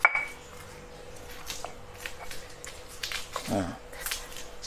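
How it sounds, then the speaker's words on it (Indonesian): Nasi goreng spices being ground coarsely by hand, giving soft scattered scraping and knocking sounds with a few sharper clinks, faint and close, with brief voice noises in between. "Gilingnya pakai tangan, jangan lembut nian gilingnya."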